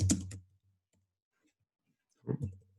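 Short bursts of computer keyboard typing for a reply, a quick cluster of keystrokes at the start and another brief flurry near the end, separated by near silence.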